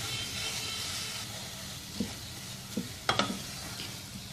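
A mixture of coconut powder, khoya and cardamom powder is stirred in a pan for carrot barfi, with a soft continuous sizzle under a few light scraping knocks and a cluster of sharper clicks toward the end.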